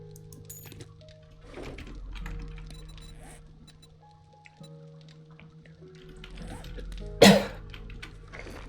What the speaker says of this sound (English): You're gonna hear me coughing lots, and I apologize for that.